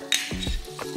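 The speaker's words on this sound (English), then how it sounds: "So now we're gonna get ready to pan fry that." Food frying in butter in a home kitchen pan, a steady close sizzle with a few stirring scrapes and clinks.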